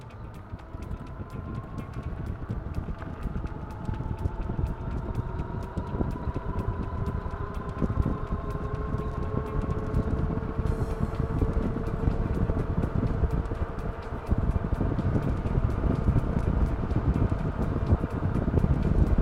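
A Rundeer electric bike ridden at full throttle on maximum power, heavy wind buffeting with a faint rising motor whine that climbs steadily in pitch, loud and continuous throughout.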